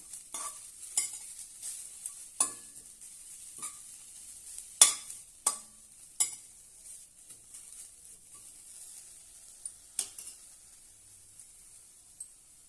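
Chopped fresh herbs being sautéed in a pan for a mint chutney give a quiet, steady sizzle. Scattered scraping stir strokes from a spatula punctuate it.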